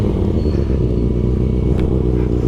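A stunt motorcycle engine running right after starting, a loud, close, rumbling idle with uneven low pulsing throughout.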